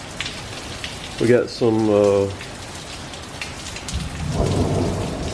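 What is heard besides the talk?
heavy rain with thunder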